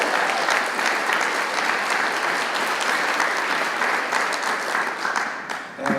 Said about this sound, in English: let's give Santa Maria one more time a big hand